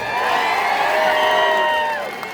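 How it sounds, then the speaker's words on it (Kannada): Crowd at a farmers' protest joined by lawyers raises a loud, drawn-out cheer and chant together, voices rising and then tailing off after about two seconds, close and energetic. "ಜೈಕಾರ ಹಾಕ್ರಿ"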